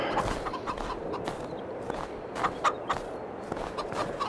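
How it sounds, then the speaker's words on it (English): Chickens clucking on a snowy farm in Farming Simulator 22, a steady busy bed of close clucks and short fowl calls with a few sharper peaks, no talk over it. "Anyway, chickens."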